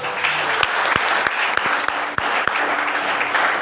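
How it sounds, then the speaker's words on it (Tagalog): Congregation applauding during a church service, a steady roar of clapping with a few sharper individual claps popping out near the front, lasting a few seconds. "Nay kayong palakpak."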